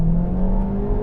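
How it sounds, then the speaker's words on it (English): A 2021 Honda Civic Type R Limited Edition turbocharged engine revs hard, a loud, steady droning roar with rising pitch, close and continuous for about a second with no voices. "This turbo engine revs up to 7 and it's so strong."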